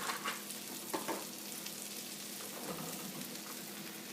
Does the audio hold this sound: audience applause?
no